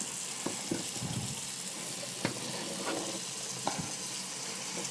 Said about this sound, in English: So we're starting the final rinse.